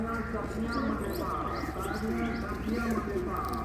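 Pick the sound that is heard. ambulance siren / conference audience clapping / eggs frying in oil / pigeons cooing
pigeons cooing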